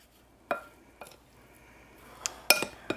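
A small wooden spoon stirs seasoned meat in a bowl, giving a few sparse knocks and clinks against the sides at irregular intervals, with a louder scraping clatter near the end over a quiet background.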